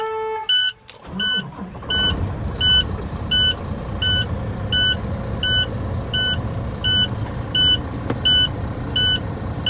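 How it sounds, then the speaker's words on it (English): A truck engine turns over and settles into a steady low rumble during an in-cab air brake test, with a repeating high electronic beep sounding at regular intervals throughout. "Then you're gonna want to start up the truck."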